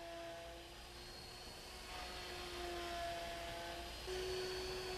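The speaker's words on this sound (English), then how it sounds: "This is a light-duty duplicating machine." A light-duty duplicating machine cuts a part, giving off a faint, steady mechanical drone with a thin whine running through it, continuous and unbroken throughout.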